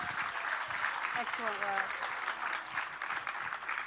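An audience applauds a competing team at the Future Anything National Grand Final 2022. The steady, dense clapping runs through the whole stretch, and a voice speaks briefly over it.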